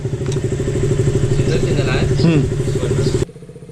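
Two motorcycles ride together, their engines giving a loud, steady, throbbing drone up close that drops away suddenly near the end.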